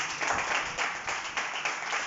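A church congregation claps loudly and in unison during an evangelical sermon, steady rhythmic group claps repeating in bursts with no talking over them.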